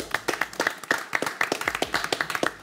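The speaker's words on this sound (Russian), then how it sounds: "время вышло, аплодисменты, справились" Sparse, uneven hand claps from a small studio audience on a live online cyber-security quiz show, about a dozen distinct near claps over a few seconds with no voices.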